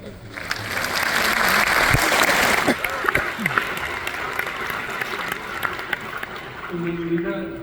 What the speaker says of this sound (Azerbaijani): iştirak etmiş şagirdlərimizi də alqışlayaq